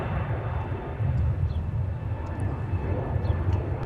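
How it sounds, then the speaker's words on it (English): A Delta Airbus A321neo departs to the north, its broad, steady jet roar rumbling from a moderate distance and filling the whole stretch without letup. "Departing on the north side, Delta 2008 to Portland, Oregon with the A321neo."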